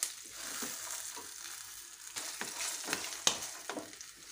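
Ingredients for a ridge gourd peel chutney fry and get stirred in a pan, a steady close sizzle broken by repeated scraping strokes of a spatula, with no voices.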